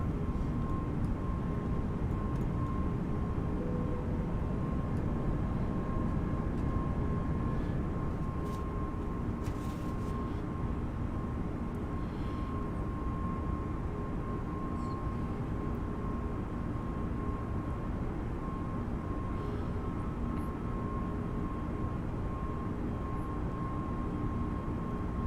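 Steady loud roar of an Airbus A320neo's engines during takeoff and climb, heard from inside the cabin as a constant broadband drone with a faint steady whine, no talking.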